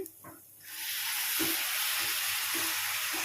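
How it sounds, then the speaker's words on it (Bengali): Milk poured into rice frying in a pan for paneer pulao sets off a sudden loud, steady sizzle and hiss after a quiet start, with a few soft knocks of stirring. "বন্ধুরা ভালোভাবে ভাজা হয়ে গেছে এবারে আমি এই চালের মধ্যে আমি এক কাপ দুধ দিয়ে দিচ্ছি"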